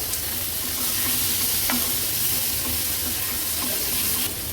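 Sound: prawns being stirred and fried in onion masala

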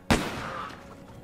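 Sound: gunshot in Band of Brothers film recap

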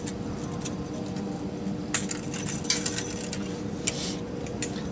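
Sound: PTO shaft guard chain unclipped from its anchor point

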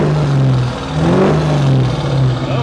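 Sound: Duramax diesel truck engine revving

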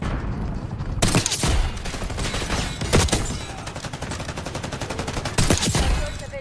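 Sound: LR 7.62 sniper rifle shots in Black Ops 6 video game

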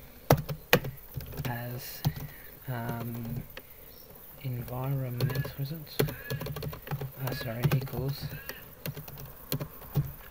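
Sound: typing code on a computer keyboard

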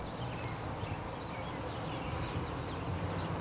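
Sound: honey bees buzzing in a top-bar hive

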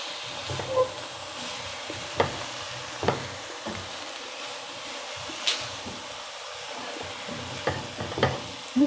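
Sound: frying and stirring cabbage for palya

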